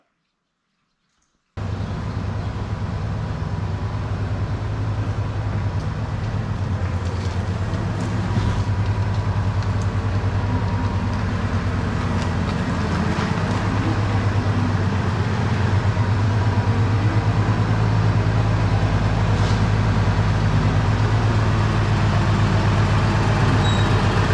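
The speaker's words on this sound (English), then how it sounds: "I'm parking the tractor." A heavy diesel tractor engine with a baler rumbles steadily at close range, a constant low droning hum that continues without pause and with no one speaking.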